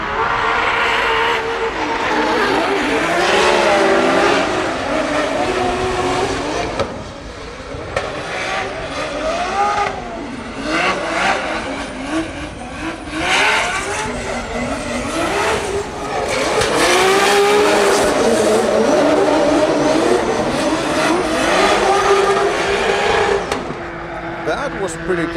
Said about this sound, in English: That was pretty close drifting between these 2 guys.